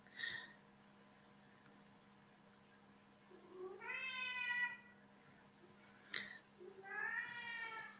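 Cats meow in long, clear, wavering calls, two drawn-out meows separated by a sharp click, heard close against a quiet indoor background.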